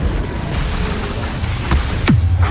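Casting the Incendio fire spell in Hogwarts Legacy produces a steady roaring, whooshing rush followed by two sharp bursts, the last trailing off in a falling swoosh, loud and without voices.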